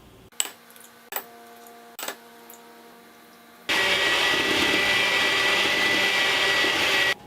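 A hand mixer beats sugar, eggs and vegetable oil together for pumpkin cake batter, a steady loud whirring drone that runs for about three seconds after a few short knocks and clatters.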